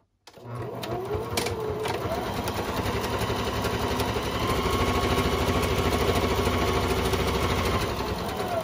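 A sewing machine stitches the side seams of reusable fabric shoe covers, running in a steady, continuous mechanical whir from start to finish, close and fairly loud with no pauses.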